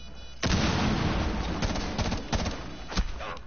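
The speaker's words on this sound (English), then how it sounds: "why am I not doing burst fire?" Burst gunfire in a siege-style shooter video game: a sudden loud, dense stretch of rapid shots and impacts with several sharper bursts rising above a continuous din.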